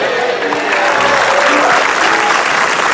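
Loud, dense applause from a studio audience at an Indonesian comedy show, a sustained wash of clapping close up with no break.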